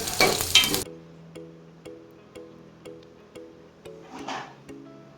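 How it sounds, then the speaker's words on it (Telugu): Onions being stir-fried with soya leaves, green chilies and curry leaves for mutton keema with okra curry, a loud initial sizzle followed by regular ticking spoon taps and a soft hiss, close up. "ఉల్లిపాయలు కొంచెం మగ్గిన తర్వాత సోయా ఆకు, పచ్చిమిరపకాయలు, కొద్దిగా కరివేపాకు వేసి కలపండి"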